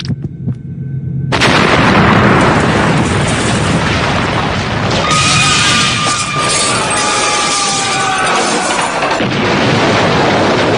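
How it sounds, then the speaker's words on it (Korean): A dramatized truck bomb blast at an embassy in Kenya erupts after a brief quiet lead-in into a massive, sustained roar of explosion and collapsing building, loud and enveloping, with whining tones and rumbling debris carrying on for several seconds. "거대한 폭발과 함께 우판디 빌딩이 무너진 것입니다"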